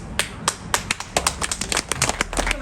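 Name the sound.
audience clapping hands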